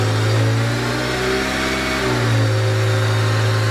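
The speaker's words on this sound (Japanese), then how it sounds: "じゃあ続いてエンジンをかけてみたいと思います。" A Honda Integra Type R engine with 85,600 km catches instantly and settles into a steady, loud idle with a brief rise in pitch, heard up close.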